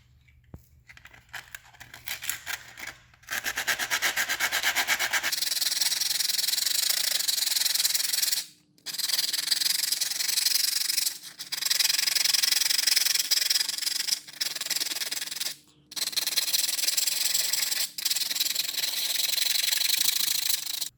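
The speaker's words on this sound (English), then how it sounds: "take our roughest grit sandpaper and we gotta sand off all this existing grip" Rough-grit sandpaper scrubs steadily over the textured polymer grip of a Glock pistol, giving a loud, close, continuous rasping broken by several short pauses between strokes.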